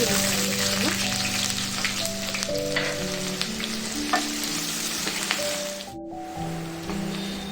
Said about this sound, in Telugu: మన తాలింపు గింజలు వేయండి